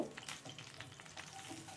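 Spices tempering in hot oil for a gongura and chickpea curry, a soft, steady sizzle with light crackles and occasional stirring, faint and close with no talk.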